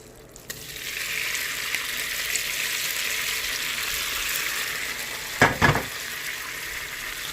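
Pasta sizzles steadily as it is tossed in a hot pan, with a couple of sharp clatters from the pan near the end.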